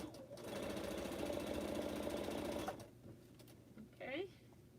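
A sewing machine stitches pineapple quilt blocks in a fast, even mechanical whir for about two and a half seconds, then stops, followed by a brief spoken voice.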